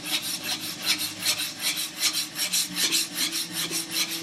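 A steel plane iron is rubbed by hand back and forth across a coarse sharpening stone, giving a steady, close, rhythmic rasping scrape with about a dozen even strokes and no talking.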